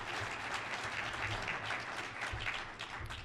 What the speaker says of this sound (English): Let's give you all a round of applause real quick.